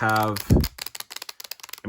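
Circular Sushi Go cards from the Spin Some for Dim Sum edition are bridge-shuffled, giving a quick run of crisp riffling clicks after a voiced sound at the start.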